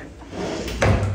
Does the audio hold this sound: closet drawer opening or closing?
yes